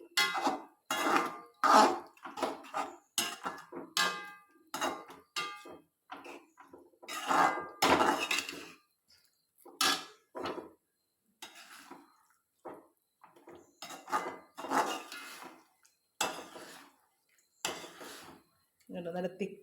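A spoon stirring thickening soy-sauce gravy in a pot, giving repeated clinks and scrapes against the metal in irregular bursts with short pauses, close and fairly loud.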